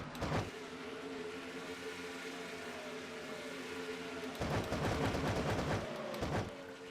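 NASCAR stock cars in a racing video game drone side by side with a steady engine hum, broken by a few louder bursts of sharp, crackling revving as cars sweep close.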